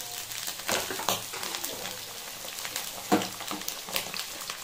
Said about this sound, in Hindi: ये देखिए फ्रेंड्स ये फ्राई हो रहा है